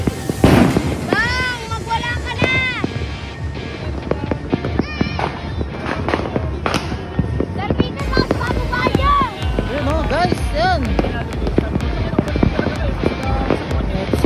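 New Year 2025 fireworks heard from a roof deck: dense, continuous crackling and popping bursts, some near and loud, with people talking and calling out over the din.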